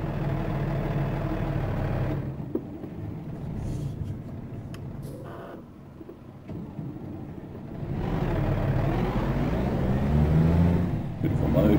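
Truck engine in American Truck Simulator on a Utah route, a steady low drone that drops and thins in the middle then swells back as the rig pulls away, with someone talking over it.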